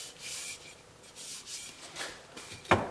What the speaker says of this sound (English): with some sandpaper so that the glue will stick in there better because it's a pretty tight fit.